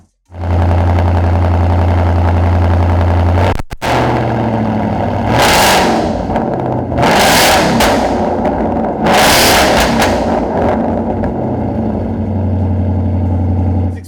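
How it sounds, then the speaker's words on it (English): A 2018-2023 Ford Mustang GT V8 with an MBRP Race Pro-Series cat-back exhaust idles loud and deep, with a brief cutout, then several throttle blips rise and fall before it settles back to a steady rumbling idle. "Definitely loud at idle."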